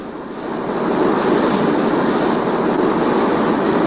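A train passing Ravenscar runs into a 279-yard tunnel, its rolling rumble swelling within the first second into a loud, steady roar with a broad hiss.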